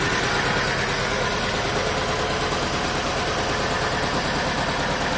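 Steady, loud idle of a BMW 2002 car engine running on a single carburetor, a continuous close rumble with a fine rhythmic pulse and no talking.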